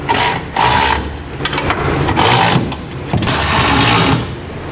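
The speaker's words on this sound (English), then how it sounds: "Now we'll begin tightening all of our bolts that go into our center section through our cross members." Tightening bolts through the cross members of a B and W fifth wheel hitch on a 2008 Chevrolet Silverado: loud, close bursts of whirring, clattering tool noise, about four in a row, with short pauses between them and no talking.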